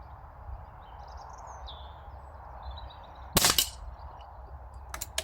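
An Air Arms air rifle fires a single pellet, a sharp crack near the middle followed by a faint metallic impact, over quiet outdoor ambience with distant birdsong.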